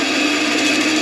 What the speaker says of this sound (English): I'm going to cut this out on the bandsaw